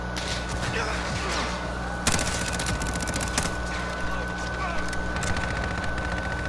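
Gunfire in Modern Warfare rattles in fast bursts over a steady low game hum, with a sharper volley near the middle and scattered shots after, while a voice talks throughout.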